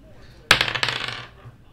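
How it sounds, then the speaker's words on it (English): Dice drop and clatter across a surface in one sharp burst, then several quick rattling bounces fade out over about a second, close and alone. "Let's roll those dice."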